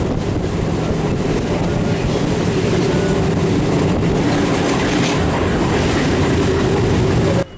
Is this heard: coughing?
no